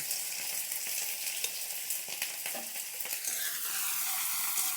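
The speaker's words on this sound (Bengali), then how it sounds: "এগুলো একটু ভালো করে ভেজে নেব" Chopped onion, garlic and chili fry in hot oil for a vegetarian greens dish, a continuous close sizzle with occasional small stirring clicks and spatters, no voices.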